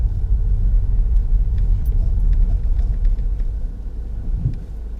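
A car engine rumbles steadily and loudly from inside the cabin during a driving lesson while the car turns around, a deep continuous low drone with no talk.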